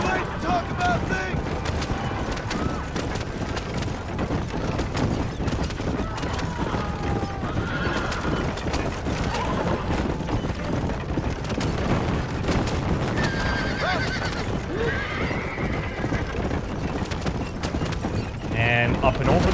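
Horses in a Red Dead Redemption game neigh and whinny over a rapid clip-clop of galloping hooves, with gunfire crackling in the busy game mix and a player talking over the action.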